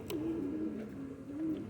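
A pigeon with a respiratory infection coos in two drawn-out, wavering calls, close and fairly loud, with no talking.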